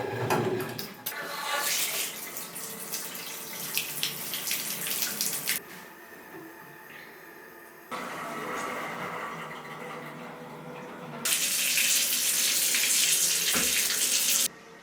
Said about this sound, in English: So as you can hear, the water is running. It's filling up the toilet